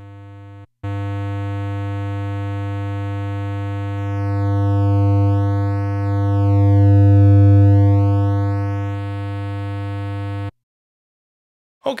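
A loud, hard-clipped sine test tone sounds steadily, its buzzy harmonics swelling and sweeping as the level shifts, then cuts off abruptly into silence.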